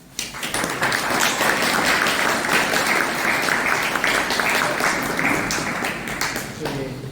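Sustained applause from a conference audience after a closing speech on human fraternity, steady and dense clapping filling the room for several seconds before easing off at the end.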